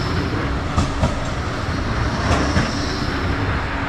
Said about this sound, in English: So here we are, the tram just going past us.